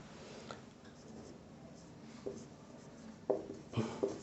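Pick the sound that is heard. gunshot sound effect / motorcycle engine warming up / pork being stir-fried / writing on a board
writing on a board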